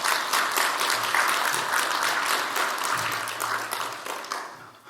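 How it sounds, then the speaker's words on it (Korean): Sustained applause from a church congregation welcoming a missionary speaker to a morning service, a thick steady wash of many hands clapping that fades slightly toward the end, with a low hum beneath. "이제 나오시는데 박수로 환영해 주십시오."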